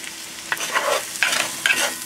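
Mushrooms and salt sautéing in butter in a pan give a soft, close sizzle broken by three quick stirring scrapes over about two seconds.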